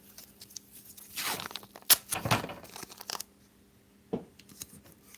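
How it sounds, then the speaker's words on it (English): Purple masking tape being cut and peeled for airbrushing, giving a few short tearing and crinkling bursts of close, quiet sound with pauses between them. "we'll put a little piece of purple tape on there, cut it out"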